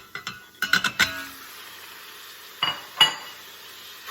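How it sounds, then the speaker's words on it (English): Sausage goes into an Instant Pot over browned shallots, heard as a few sharp sizzles and clinks of a utensil against the pot, in short bursts separated by quiet gaps. "So my shallots are all nice and brown now and cooked through. I'm going to put in our sausage."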